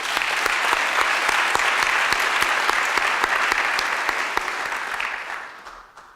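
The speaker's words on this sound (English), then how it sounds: "Let us give her another round of applause." A full audience applauds at a 2015 State of the City Address in Petersburg, with a thick, even wash of clapping that holds steady and then fades out near the end.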